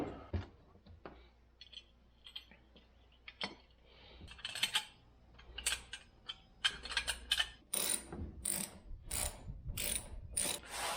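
Ratchet tightening a bolt on an LED pod light bracket on a CFMoto Uforce 1000XL side-by-side, a close, rapid series of clicking pawl strokes that come in bursts and grow louder and denser toward the end, with no talking.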